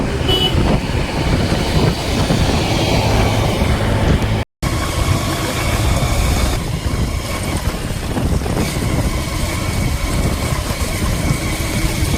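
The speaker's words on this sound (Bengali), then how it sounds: "উঠে পড়েছি ট্রেনে" A passenger train ride on board a fairly empty carriage on a hot day, with a steady, loud rumble of wheels and engine running continuously, broken by one brief cut near the middle.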